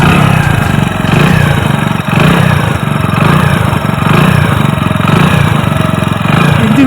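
A used motorcycle engine idles smoothly and evenly, a steady close thrumming with no knocks or irregular noise, running alone without talk.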